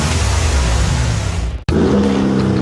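The turbo high-output engine of a 2023 Chevy Silverado revs loudly and continuously, cutting out abruptly for an instant before the roar returns, with a steady low rumble.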